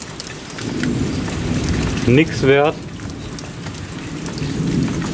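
Heavy rain pours steadily during a thunderstorm, with rumbling thunder beneath, and a voice speaks briefly over the downpour.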